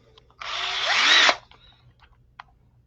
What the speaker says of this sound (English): we take a hand drill